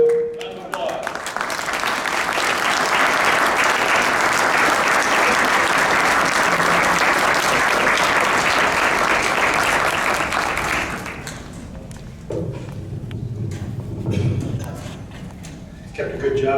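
Sustained applause from an audience at an Eagle Scout ceremony, a dense, loud wash of clapping lasting about ten seconds before fading into quieter room sounds and voices.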